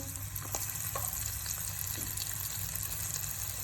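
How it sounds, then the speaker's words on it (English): Onions sauté in a pot for a Jamaican coconut curry crab, giving a quiet, even sizzle with faint stirring throughout. "All right, we're gonna start by adding our onions. So we can saute."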